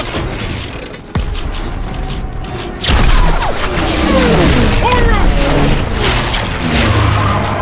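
Battlefield gunfire in Call of Duty WWII, with a heavy boom, crashing impacts and ongoing shooting, while voices shout over the combat.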